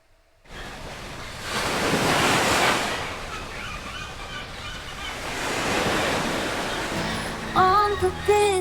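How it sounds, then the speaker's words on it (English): Ocean waves wash against a busy dock in the video game Dragon Age: The Veilguard, two broad swelling surges of surf, loud and close, with faint higher chirps near the end. "On the busy dock, waves crash loud."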